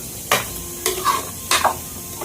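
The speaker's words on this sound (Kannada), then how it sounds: "ಮತ್ತೆ ಚೆನ್ನಾಗಿ ಮಿಕ್ಸ್ ಕೊಡಿ" Three scraping stirs of a spoon through chicken pepper gravy in a pan, evenly spaced, close and distinct over a soft sizzle.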